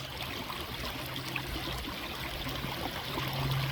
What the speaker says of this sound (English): The waterfalls are completely opened up now.